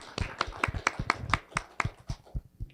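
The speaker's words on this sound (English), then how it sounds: "Round of applause." A small town hall audience gives a sparse round of applause for a student media representative, with distinct individual claps in an irregular rhythm, fairly close and moderately loud, thinning out toward the end.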